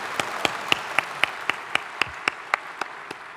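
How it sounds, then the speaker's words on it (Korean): An assembly audience applauds after a hymn performance at a church general assembly. The clapping comes as crisp, evenly spaced beats in unison, about four per second, and tapers off near the end. "우리 다 같이 뜨거운 박수로 격려해 주시겠습니다"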